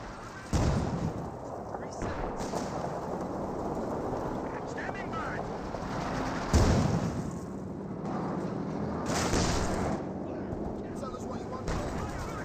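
Gunfire and artillery-like bursts in a Company of Heroes battle between US, British and German forces, rumbling through near-continuous background action with several sharper louder hits, under a commentator's speech.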